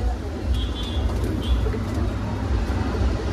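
Punjabi pigeons for sale cooing over a steady, loud outdoor hum, with soft bird calls rising through the din and faint traffic rumble beneath.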